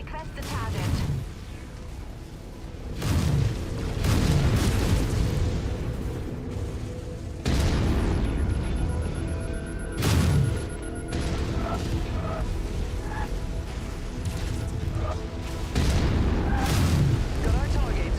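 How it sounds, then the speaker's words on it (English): Mech weapons firing and shells exploding in the game MechWarrior 5, with heavy booming blasts and sustained rumbling bursts repeating through the stretch, a game voice speaking over the barrage. "Firing on requested target."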